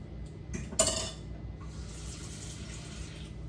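Water splashing briefly from a kitchen tap while making barbecue sauce for slow cooker bacon ranch pulled chicken, a short loud gush near the start that settles into a steady low hiss.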